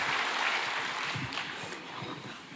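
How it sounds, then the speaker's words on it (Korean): A church congregation claps to welcome a testimony speaker, a soft, dense wash of many hands at moderate distance that fades slightly toward the end. "우리 박수로 환영하겠습니다."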